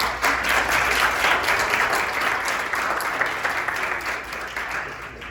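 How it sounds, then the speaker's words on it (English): An audience at a university fraternity chapter gathering gives a quick round of applause, a loud, dense, continuous clapping from many people that holds steady throughout. "So a quick round of applause for her, please."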